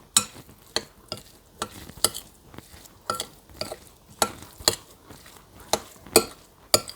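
Homemade cottage cheese being stirred after a couple of pinches of Himalayan pink salt are added, giving repeated sharp scraping and clinking taps of a utensil against the bowl in an uneven rhythm, close up and fairly quiet, with no talking.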